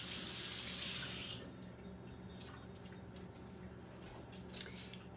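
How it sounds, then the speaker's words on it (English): Hands being washed under a running kitchen tap, a steady close rush of water that drops slightly in level after the first second, with faint drips and splashes near the end. "Let me wash my hands real quick."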